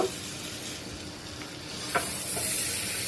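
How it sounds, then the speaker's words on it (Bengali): Dried chapila and chela fish curry sizzling in a pan while being stirred, a steady soft frying hiss with a few faint scraping strokes, moderately quiet, no talking. "আবার চলে আসলাম নাড়া দিয়ে গুল দিব"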